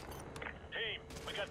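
Automated sentry turret firing in Modern Warfare 2 Remastered, rapid clattering bursts of gunfire in quick succession, fairly faint and distant, with some game sound between the volleys.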